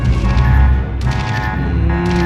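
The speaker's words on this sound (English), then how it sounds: "I'm going to throw some shells at him" An Iowa battleship fires shells in World of Warships, giving loud booming salvos with a heavy low rumble. Sharp blasts come at the start, around one second and again near the end, with lingering roar between them.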